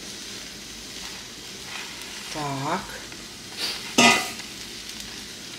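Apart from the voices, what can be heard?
minced meat frying in hot oil in a pan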